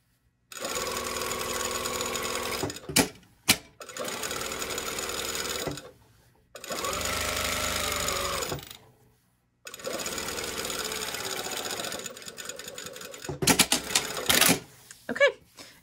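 Sewing machine topstitching down the folded front placket of a shirt, running in four steady bursts of fast whirring stitches separated by brief pauses, ending with short stop-start stitching.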